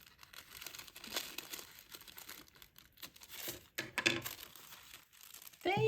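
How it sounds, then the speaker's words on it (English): Tissue paper is torn away from machine-stitched sewing, giving soft crinkling and ripping noises in irregular bursts close by, alone without talk and quiet overall. "let me clip my threads and remove my tissue"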